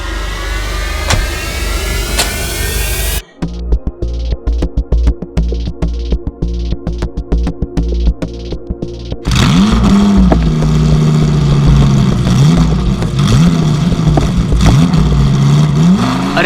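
A car engine is started, idles with rapid rattling pulses, then revs up loudly and holds a strained, rising drone, as if trying to pull away; no voices.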